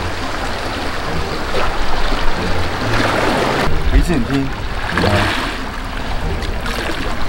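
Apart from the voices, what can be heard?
sea waves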